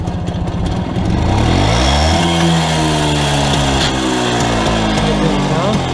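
An old WSK motorcycle engine runs loud and rough throughout while riding, with a rattling, uneven drone and pitch climbing and dropping as it rides.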